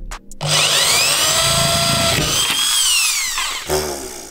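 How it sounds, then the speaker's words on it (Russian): An electric drill whines steadily for several seconds, its pitch rising and falling as it bites through hardened super glue coating an egg, then stops briefly and revs once more. "Ну и пробуем просверлить."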